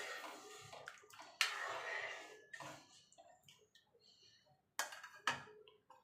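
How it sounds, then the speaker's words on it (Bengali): Water pours into a pot of masoor dal in a couple of short splashing gushes, fairly quiet, with soft drips and clinks in between. "এবার জলটা দিয়ে মিনিট 5 ভালো করে ফুটিয়ে নিতে হবে"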